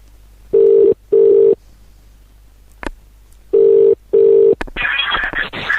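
Two pairs of steady electronic ringing tones, each pair separated by a pause, followed by a burst of noisy connection sound.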